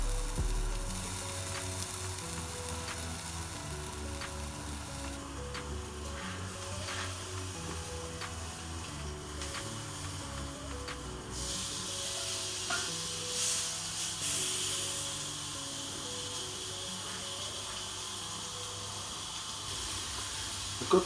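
A French-trim pork chop frying in a pan gives a steady, close sizzle and hiss with spitting crackles throughout, no voices.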